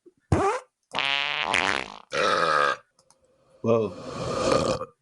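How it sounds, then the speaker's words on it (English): Soundboard fart and belch effects play in quick succession, several loud, buzzy bursts separated by brief silences, with one short spoken exclamation among them. "There's a new soundboard that is all just farts and belches."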